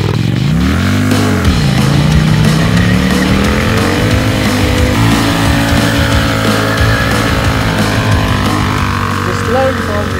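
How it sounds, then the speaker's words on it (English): A motorcycle spins wide, fast drift doughnuts, its engine revving in rising and falling sweeps with tire noise, loud and continuous, while people talk over it. "So let me see some wider, faster doughnuts."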